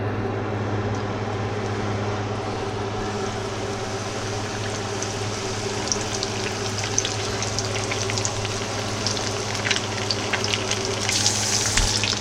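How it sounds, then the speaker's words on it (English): Steady, even sizzle of battered jalapeno and ghost pepper whiting frying in hot oil, a dense continuous crackle with a low hum underneath and no voices. "All right, the oil's ready. We're fixing to drop it in."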